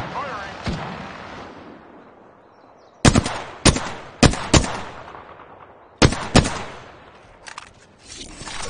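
Gunfire in the video game Apex Legends: an early shot, then sharp loud reports in two bursts a few seconds apart, each with several rapid cracks and ringing decay, followed by lighter trailing shots.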